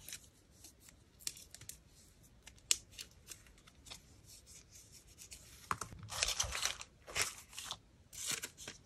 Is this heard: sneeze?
no